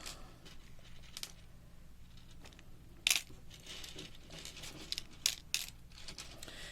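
Small beads drop and scatter across a work surface while a bead haul is sorted, giving a few sharp, bright clicks and rattles at separate moments over a low, quiet background hum.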